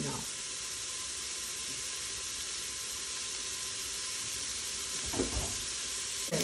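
Fennel and onion sizzling in a soup pot, a steady broad hiss held throughout, with a brief clatter near the end and soft speech.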